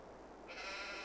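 Sheep bleat in a calm, sparse video game build, a single soft, wavering bleat rising over a quiet ambient bed partway through.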